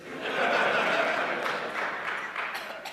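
An audience at a Linux talk breaks into applause mixed with scattered laughter, a dense clapping wash that swells quickly and then fades gradually.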